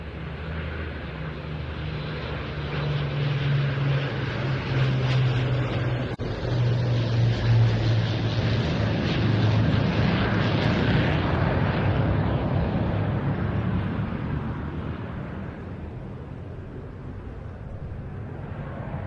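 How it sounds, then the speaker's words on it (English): A Typhoon jet and an Avro Lancaster bomber fly past in formation at an air festival, a loud, broad engine roar with a low droning hum that builds, holds for many seconds, then gradually fades. "seeing the Typhoon in formation with such a large aircraft as the Lancaster is"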